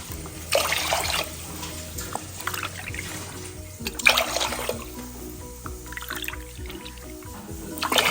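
Water splashes and trickles into a pot for cooking ragi mudda in a few separate bursts, fairly close, with quiet clinks and handling noises between pours.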